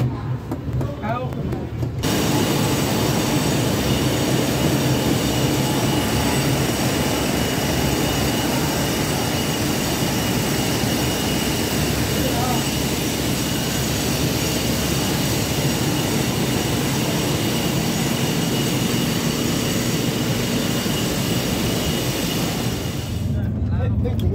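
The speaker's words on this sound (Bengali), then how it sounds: "দেখি ট্রেন তখন রাজামন্দ্রি স্টেশন ঢুকছে" An SMVT Bengaluru to Guwahati express train rumbles steadily, heard from inside an AC 3-tier economy coach as it enters Rajahmundry station, loud and continuous, with wheels rolling over the rails for a long stretch.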